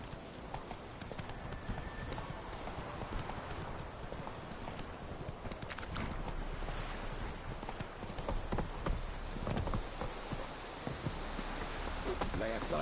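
Roach, the horse in The Witcher 3, trotting with steady hoofbeats that continue throughout at moderate volume, a soft neigh among them and occasional speech mixed in.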